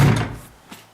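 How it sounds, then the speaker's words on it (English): A shed door swings shut with a single loud thunk near the start, followed by a fainter knock as it settles. "So we'll come in, close the door."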